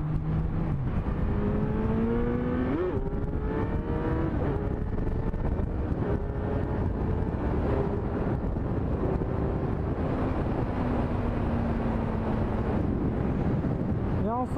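A 106 cc motorcycle ridden at speed, its engine note rising and falling through the gears under steady, heavy wind buffeting from close range, with a voice speaking over it.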